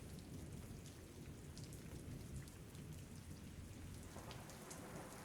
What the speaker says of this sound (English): just pouring down in the rain